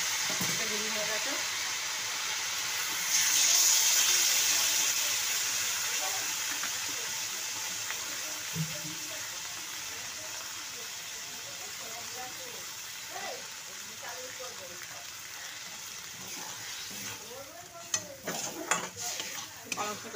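Spinach curry simmering in a pan, a soft sizzle with occasional stirring and utensil clinks against the pan, faint and close, with a voice speaking over it.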